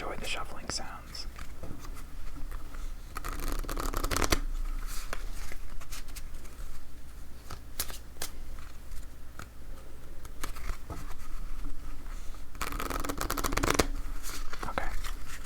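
Playing cards are shuffled close up, riffling in several short bursts with soft handling sounds between, over a quiet room.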